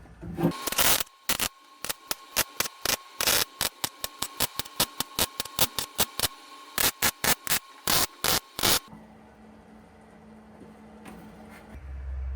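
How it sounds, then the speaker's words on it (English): MIG welding of a cab corner patch panel on a truck: sharp, crackling bursts of arc, some short tacks and some longer runs, arrive in an irregular rhythm over a steady electrical hum, then stop to leave quiet background noise. "We're going to weld that."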